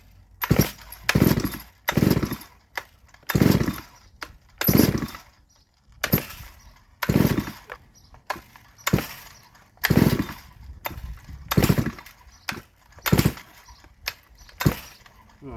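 A Neo-tec NS872 chainsaw cutting wood, heard as about a dozen loud bursts of revving that rise and fall in a regular rhythm, each rev separated by a short lull, close by.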